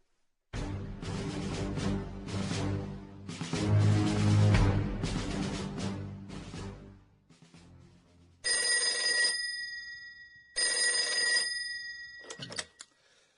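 Vintage telephone bell ringing in two loud bursts toward the end, following a stretch of dramatic music in a Korean historical documentary drama about the early-1960s auto industry.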